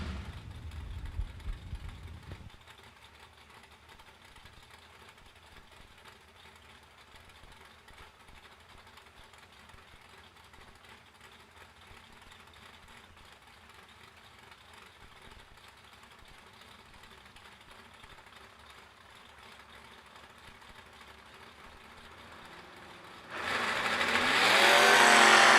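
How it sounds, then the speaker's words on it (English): Drag race cars, including a first-generation Camaro, at a $100K drag racing event: a low, steady engine rumble in the distance, then a sudden loud roar of engines at full throttle near the end. "That's a drag race right there."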